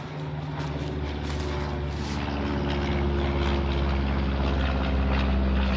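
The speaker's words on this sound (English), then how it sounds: "Bloody airplanes." A propeller airplane drones steadily overhead, its continuous engine hum slowly building in loudness across the whole stretch. No voices are heard over it.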